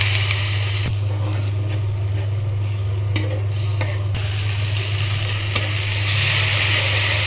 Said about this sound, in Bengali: এখন আমি সব ভালো করে ভেজে নিচ্ছি। দিয়ে নিচ্ছি আদা বাটা